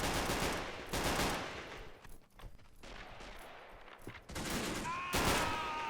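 A World War II video game battle on a hilltop produces bursts of rapid gunfire, including an StG 44, with dense crackling volleys, a quieter pause, and then renewed heavy firing and a whistling sound near the end.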